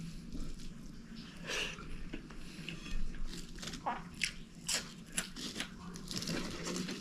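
Crunchy food is bitten and chewed close up, a series of crisp crunches and snaps in an irregular rhythm, fairly quiet, with faint voice sounds in the background.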